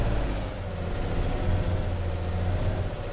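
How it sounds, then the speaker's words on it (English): A steady video-game truck engine, from Alaskan Truck Simulator, drones at low pitch, with a thin high whine running continuously over it. "Truck sounds good."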